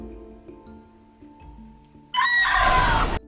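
A ghost's shriek from the film The Woman in Black: a sudden, loud, piercing scream that bursts in after a quiet, low droning score and cuts off abruptly about a second later.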